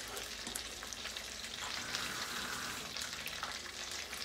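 Flour and water batter being stirred in a bowl for a Sardinian recipe, a steady wet sizzling, swishing texture that runs continuously and fairly close throughout.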